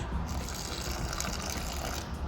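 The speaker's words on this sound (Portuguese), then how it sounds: "Vamos então adicionar a água aos bocadinhos," Water is added a little at a time to a cement and salt mix for making saltwater aquarium rocks, a close, continuous splashing gush that stays loud and even for the whole stretch.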